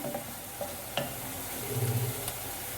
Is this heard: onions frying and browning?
yes